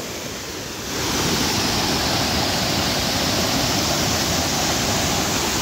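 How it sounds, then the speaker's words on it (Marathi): Palasdari waterfall near Karjat roars as a steady, dense rush of falling water that swells in within the first second, then holds loud and unbroken to the end. "पळसझरीमधला सुंदर असा waterfall untouched beauty of Karjat."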